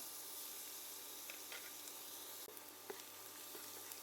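Crushed ginger and garlic frying in hot oil for a prawn moly, giving a faint, steady sizzling hiss that carries on evenly throughout with a couple of small crackles.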